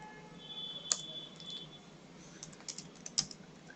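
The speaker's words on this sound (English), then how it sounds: "Now you can type from your keyboard" Keys are tapped on a computer keyboard in quick, uneven bursts, with a few sharper clicks standing out. The typing is faint and close, with no voices.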